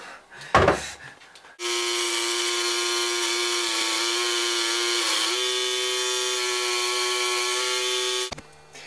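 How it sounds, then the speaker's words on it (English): A scroll saw cuts wood for a lion lamp project, starting after a brief knock and then running as a loud, steady buzzing drone for about seven seconds, its pitch shifting slightly midway before it stops abruptly. "I'm using my scroll saw instead of my jigsaw"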